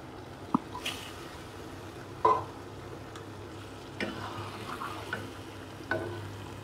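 Pieces of hilsa fish frying in a pan, a low steady sizzle with a few soft clinks and stirring scrapes spread across the clip, no voices.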